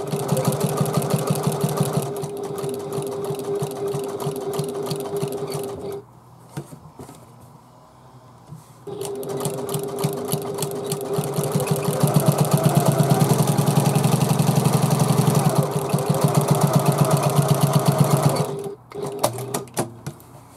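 A sewing machine stitches around a handbag pocket with a rapid, even mechanical chatter, close and loud. It stops for a few seconds partway through, then runs again in long bursts.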